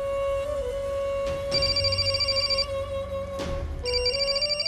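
A phone ringtone plays in repeating bursts of bright electronic tones, fairly quiet, with brief pauses between rings and no talking.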